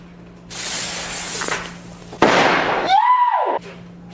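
Several firecrackers burst outdoors, sharp pops followed by crackling hiss and a loud spray of noise, with a whistling rise near the end.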